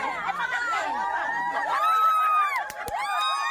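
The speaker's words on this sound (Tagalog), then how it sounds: "grabe mga hiyawan daig pa mga nanalo sa loto" Crowd of elderly people shouting and whooping with joy, excited overlapping cries and cheers that swell and rise in pitch, close and fairly loud.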